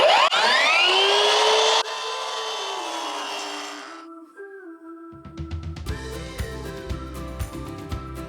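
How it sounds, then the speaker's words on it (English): A miter saw spins up to a loud, high whine and then cuts straight across a 2x6 stud. The motor winds down after the cut, and knocks and handling clatter of the wood follow, close by. "then you turn your miter saw back to 0, so you're cutting at a 90. And then I cut it."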